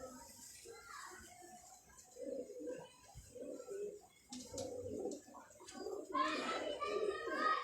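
Ferozpuri pigeons coo in soft, repeated bursts close by in a quiet indoor space, with low murmuring voices and occasional shuffling between the calls.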